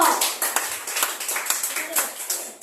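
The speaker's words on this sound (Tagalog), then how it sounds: "Sa papuri, isang malakas na palakpak po." A church congregation claps together in a quick, rhythmic beat, loud and lively throughout.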